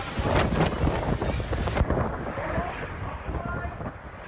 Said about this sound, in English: Just listen to the winds tonight.